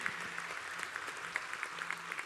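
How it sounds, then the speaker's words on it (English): A graduation ceremony audience gives a round of applause, fairly quiet and distant-sounding clapping with a few sharper claps standing out, and a low hum underneath. "Can we have a big round of applause"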